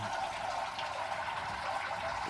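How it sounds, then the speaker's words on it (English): Wort draining into the grain vessel of a Brewtools B150 brewing system on brew day, a continuous rushing, splashing flow of liquid, steady and close throughout. "Obviously, we're just draining the wort into the grain vessel."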